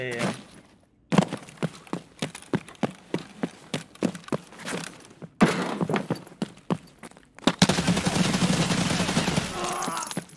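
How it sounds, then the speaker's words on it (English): Gunfire in Escape From Tarkov cracks out in a rapid series of sharp shots, followed by a dense burst of heavy fire, with players talking over it. "I'm getting shot at"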